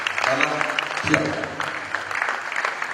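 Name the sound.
audience round of applause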